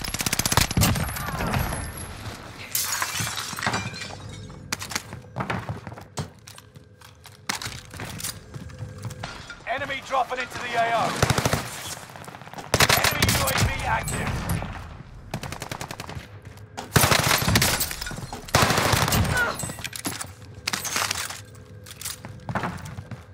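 A buffed XM4 assault rifle fires on Rebirth Island in a video game: repeated loud bursts of rapid automatic fire with short gaps between them and occasional voice.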